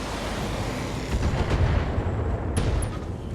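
Mech weapons firing in the BattleTech game, including SRM6 missiles: a sustained rumbling volley of overlapping booms and bursts at moderate loudness, with a couple of sharp metallic pings near the end.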